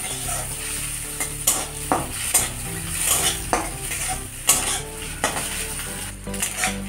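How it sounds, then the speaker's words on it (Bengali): Blended boiled egg mixture fries in a pan with a steady close sizzle, broken by repeated sharp scrapes and clinks of a utensil stirring against the metal. "সবগুলোকে একটু ভালো করে ভেজে নেব।"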